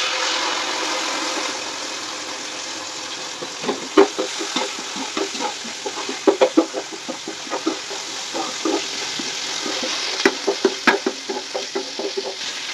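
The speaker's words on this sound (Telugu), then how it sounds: "ఇలా అల్లం వెల్లుల్లి పేస్ట్ కొంచెం వేగిన తర్వాత పచ్చివాసన పోయేంత వరకు వేయించుకుని" Ginger garlic paste fries in ghee for haleem, giving soft sizzling and intermittent scraping stirs against the pan, close and moderately loud, with no talking.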